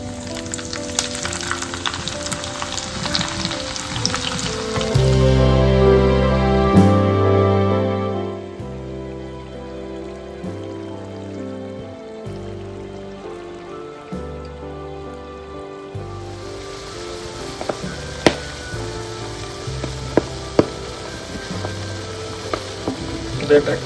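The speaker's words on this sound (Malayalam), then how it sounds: "വെളിച്ചെണ്ണ എണ്ണ ചൂടാക്കിട്ട് കേട്ടോ. നമുക്ക് കുറച്ച് വേപ്പില തുറക്കാം കേട്ടോ. അത് കഴിഞ്ഞ് നമ്മുടെ പൊടിമീൻ വറുത്തെടുക്കാം കേട്ടോ." Small anchovies frying in hot coconut oil with curry leaves give a steady crackling sizzle that opens and closes the stretch, while music plays over the middle section.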